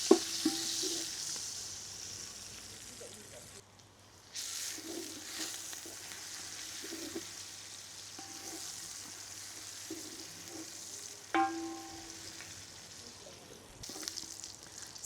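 Onions fry in a generous amount of oil in a pot over an outdoor fire, a steady broadband sizzle running throughout with occasional stirring scrapes and clinks, fairly close and with no talking.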